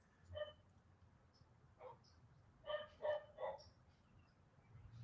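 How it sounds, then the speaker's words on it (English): Several neighborhood dogs bark in scattered bursts at a distance, a few single woofs followed by a quick cluster of barks, faint over a low background hum. "All the neighborhood dogs are freaking out."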